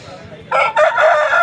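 A loud rooster crows nearby at a rooster market in Vijayawada, a drawn-out harsh call breaking briefly before continuing, after a quiet moment.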